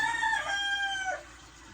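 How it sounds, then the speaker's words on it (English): A rooster crows once nearby outdoors, a loud, clear cock-a-doodle-doo lasting just over a second, with no talk. "old Rooster go to holler, and he like to be heard now"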